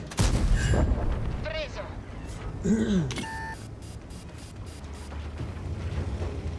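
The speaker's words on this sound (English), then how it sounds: "Trying to get away from the arty shot" Artillery shells thump in a tank battle video game, a heavy boom at the start followed by another around the three-second mark, mixed with electronic beeps and game effects while a voice talks over the action.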